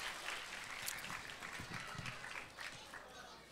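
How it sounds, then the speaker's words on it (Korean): Applause from a church congregation at a Christmas Eve celebration, a steady, moderately loud wash of clapping filling the whole stretch with faint voices mixed in. "예수님의 생일을 축하하는 의미에서 박수로 마무리하도록 하겠습니다."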